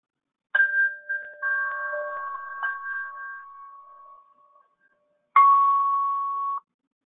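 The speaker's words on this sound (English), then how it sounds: "there's a little doorbell that rings for the patient as they're waiting for the provider to join" A two-tone electronic doorbell chime from telehealth software, signalling a waiting patient, rings clearly, its tones lingering and fading, then a single shorter chime sounds again after a pause.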